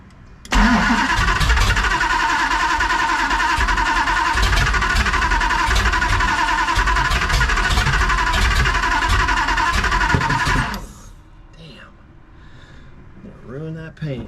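A 1969 Dodge Charger V8 cranks and fires, then runs loud and steady for about ten seconds with a rough, throbbing idle before cutting out, followed by quieter shuffling noises.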